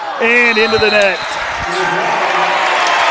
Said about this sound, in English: Big applause from everyone in the stadium right now after that point.